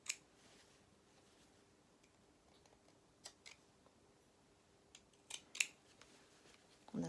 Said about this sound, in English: let's just carry on doing those snips through that shoulder point